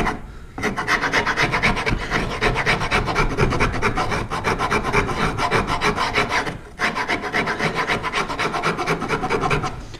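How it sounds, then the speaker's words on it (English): Wood of a long box turkey call being rasped down to a marked line while strapped in place, a steady, close, rhythmic scraping of rapid strokes that runs for several seconds, pauses briefly, then resumes. "As you can see, I'm rasping it down to the line here."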